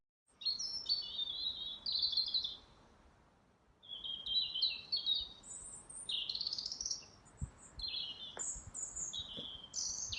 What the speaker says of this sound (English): N is for nightingale.